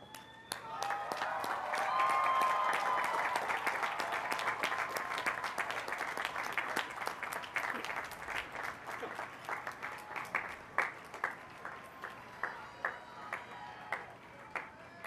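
Graduates at a 2013 business college commencement rise to give a long round of applause, a broad crowd of clapping that swells early, then thins into scattered individual claps with faint cheering toward the end.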